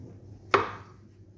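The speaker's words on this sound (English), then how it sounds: "Let's start by chopping up some mushrooms." A knife chops through mushrooms on a cutting board, one sharp close thud with a second lighter tap at the very end, otherwise quiet.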